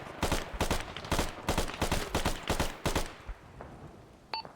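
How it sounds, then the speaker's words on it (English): Mounted gun on a technical vehicle in a military video game fires repeated rapid bursts, about eight sharp cracks in quick rhythm, loud and close, then stops, leaving a faint tail and a few small electronic blips. "So fun fact, if you shoot the techie, it shoots back"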